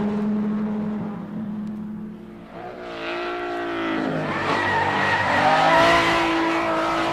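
A Skyline GT 54-B race car with a six-cylinder overhead-camshaft engine on three Weber carburetors at Suzuka circuit: an engine holding a steady note, then rising through revving with tire squeal, growing louder and closer.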